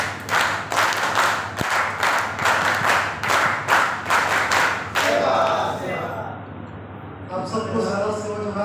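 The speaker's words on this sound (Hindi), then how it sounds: "स्वागत ताली शुरू कर।" Rhythmic group welcome clapping in a steady beat at a national convention fills the first five seconds, then fades into murmuring voices and background chatter.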